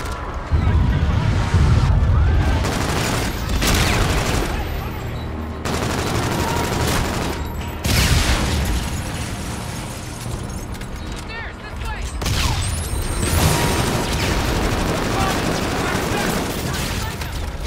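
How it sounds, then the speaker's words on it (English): Sustained gunfire in Call of Duty: Infinite Warfare, dense bursts and booms nearly continuous for the whole stretch, loud and close, with shouted voices underneath at times. "Open fire!"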